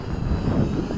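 An MJX X600 hexacopter, six motors and six props, flies in heavy wind, producing a steady droning buzz from nearby without talk.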